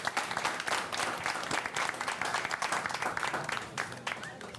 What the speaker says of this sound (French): Est-ce qu'on peut les acclamer, s'il vous plaît?